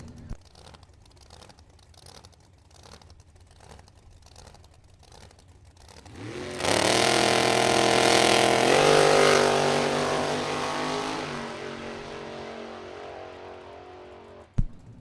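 Two drag racing cars, a 1972 Mercury and a Pontiac Firebird, launch together at a Top Sportsman event with a sudden loud roar that holds strong and slowly fades as they run away, after quieter idling and clicking beforehand.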